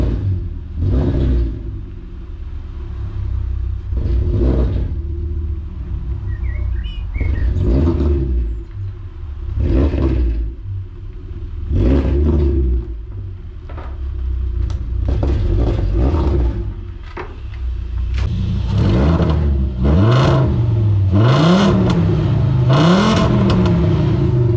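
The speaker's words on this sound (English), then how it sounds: "A lot of you guys said you really like how the V5 sounded with the muffler delete" A Volkswagen V5 with a muffler delete revs repeatedly, loud close bursts of raspy engine roar rising and falling in spaced pulses, quickening into rapid rev sweeps near the end.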